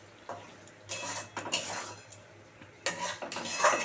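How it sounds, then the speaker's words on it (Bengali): Pointed gourd sautéed in a pan for a yogurt curry, with scattered metallic clinks and scrapes of a utensil stirring against the pan in a few short bursts, close and moderately loud, with no talk. "একটু ভালো করে কষাবো, তারপরে দই দিয়ে দেবো"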